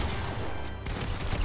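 Gunfire in Fortnite during a llama hunt rattles as a dense burst of game shots over a constant noisy background, no voices on top.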